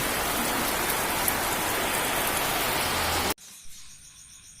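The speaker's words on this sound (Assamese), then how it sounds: "হঠাৎ বৰষুণ আহি কামটো বন্ধ কৰি দিলে বৰষুণ বৰষুণ পুৰা বৰষুণ" Steady, heavy rain pours down as a dense, loud hiss for several seconds, then cuts abruptly to a much quieter background.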